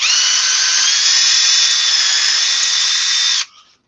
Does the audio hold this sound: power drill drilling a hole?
yes